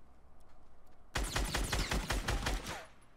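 A SCAR assault rifle in a video game fires a sudden, loud burst of rapid shots that lasts about two seconds after a quiet lead-in.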